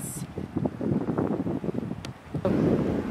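Gusting wind buffets the microphone beside a Florida bass-fishing pond, a steady low rumble that swells and eases without any voices.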